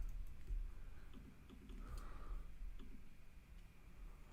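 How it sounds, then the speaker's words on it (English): Typing on a computer keyboard at a desk, soft scattered key taps in short irregular bursts, close but faint over low room noise. "Let's try typing something in here."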